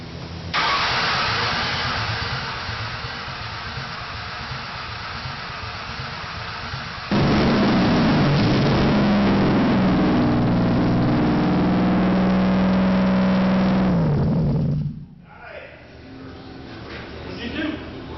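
A Ford Taurus engine is cranked repeatedly while someone tries to start it, giving a loud, steady churning whir that grows stronger midway and then cuts off abruptly, with voices talking nearby.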